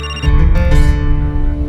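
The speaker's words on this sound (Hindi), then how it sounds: "किसका फोन है?" A mobile phone ringtone plays loud and close, a melodic electronic ring with sustained tones lasting under two seconds.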